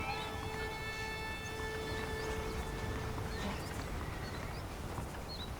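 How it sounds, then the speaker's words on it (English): Saddled horses in the Red Dead Redemption video game, with steady clip-clop hooves under a constant outdoor ambience of wind, birds and distant tones, running throughout at moderate level. "The horses are saddled up over here."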